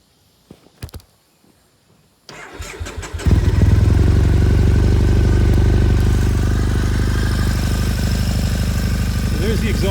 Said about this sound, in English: So there's the exhaust at idle.